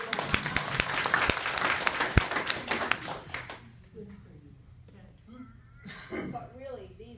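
An audience at a talk breaks into loud clapping and cheering, dense applause that fades after a few seconds, followed by scattered voices and a speaker talking.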